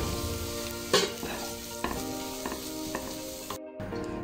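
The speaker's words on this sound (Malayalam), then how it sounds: "ഇനി നമുക്ക് ഈ ചിക്കൻ പൊടിയായിട്ട് അരിഞ്ഞതും കൂടെ ഇട്ട് നന്നായിട്ട് വഴറ്റാം." Finely chopped chicken sautéing in a hot pan, a steady loud sizzle with periodic scraping stirs of a utensil against the pan.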